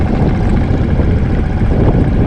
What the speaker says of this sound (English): That motor, doing really well so far.